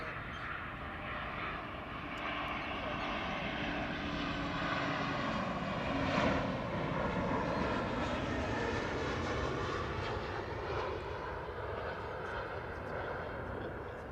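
A BA CityFlyer airliner passes behind at Amsterdam Schiphol Airport, its steady jet roar rising gently toward the middle and holding broad and moderately distant for the whole stretch.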